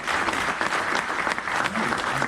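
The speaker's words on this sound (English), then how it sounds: "Round of applause for our panel" Audience applause for a panel at an industry evening event in London, a steady dense wash of clapping from a sizeable crowd lasting the whole moment without any talking over it.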